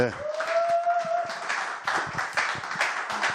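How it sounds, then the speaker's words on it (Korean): An audience at a church worship gathering claps to welcome a painter, scattered and uneven claps in separate bursts after a short tone at the start. "나비킴 작가가 나오실 때 큰 박수 부탁드리겠습니다"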